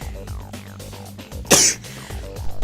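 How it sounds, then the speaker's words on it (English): A TV newsreader lets out a single loud, sharp sneeze partway through a market report on sterling and Brexit, with music and a studio bed running underneath. "She sneezes like a weirdo."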